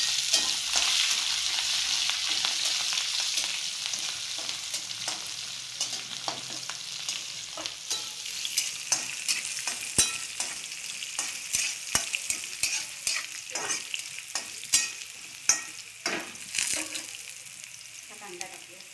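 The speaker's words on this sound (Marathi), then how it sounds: "आधी दाणे टाकते. कढीपत्ता आणि मिरची टाकते." Peanuts, curry leaves and green chillies crackle and sizzle in hot oil, a loud steady fry punctuated by sharp pops and spatters plus the scrape of stirring.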